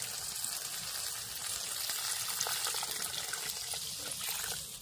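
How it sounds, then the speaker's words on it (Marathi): Water poured into a pot of fish curry cooking with crabs and small fish, a steady splashing trickle with a sizzling undertone that runs close and fairly loud for the whole stretch, with no talking. "आता पाणी ओतून घेते त्याच्यात."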